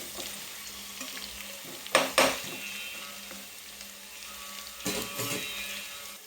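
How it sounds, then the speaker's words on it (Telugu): Sliced onions and cashews fry in a pan toward golden brown, giving a steady soft sizzle with a few sharp scrapes and clinks of a spoon stirring against the pan. "ఇదిగో గోల్డ్ కలర్లో వచ్చే వరకు బాగా ఫ్రై చేసుకుందాం."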